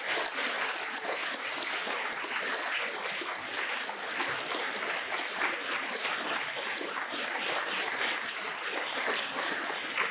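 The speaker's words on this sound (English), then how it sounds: "give yourself another huge round of applause" Students at a St John Catholic High School Relay for Life event give a long round of applause, a steady, dense wash of clapping and cheering that stays loud and even for the full ten seconds.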